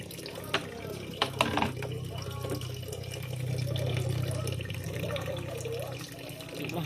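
Water running into a kitchen sink at home, a steady low gush with a few sharp clinks and knocks of dishes, fairly quiet and close.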